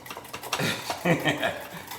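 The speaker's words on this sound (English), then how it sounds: "Let's whisk this, whisk this all together here." Honey mustard sauce is whisked in a bowl, brisk clinking strokes of the whisk against the sides in a short uneven burst, close and clear.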